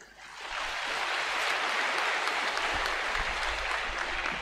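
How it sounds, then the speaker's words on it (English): Audience applause at a military commissioning and pipping ceremony, rising quickly into a broad, steady wash of clapping from a large crowd, heard somewhat distant and continuing without speech. "Another round of applause for the Deputy Commandant"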